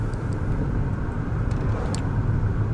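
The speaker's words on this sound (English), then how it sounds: "all you can hear is a bit of traffic humming in the car's engine" A low, steady humming of a car engine with muffled traffic heard from inside a sealed, soundproof car in a video game, a constant rumble with a few faint high ticks.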